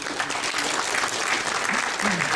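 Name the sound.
audience applause at conference plenary session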